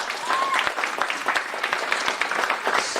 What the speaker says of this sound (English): round of applause for everybody on the stage here